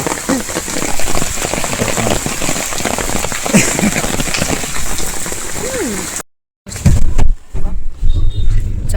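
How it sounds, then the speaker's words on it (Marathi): Heavy rain pouring down in Pune, a loud dense wash of drops hitting surfaces close by, with a brief dropout partway through, then more rain with muffled handling noise. "इथला पाऊस बघा आता आम्ही छत्री घेऊन आहे खतरनाक पाऊस चालू आहे"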